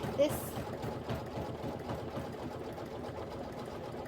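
A sewing machine stitches quilt pillow block pieces together, a fast steady mechanical chatter running continuously at close range, with a person talking faintly over it.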